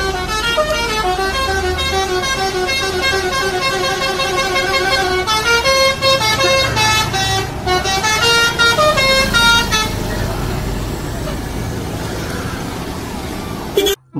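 A Pandawa 87 bus passes on an Indonesian road, sounding a long, loud melodic horn in repeated musical toots over a rumbling engine for about ten seconds, then the horn stops and the engine and traffic noise fade.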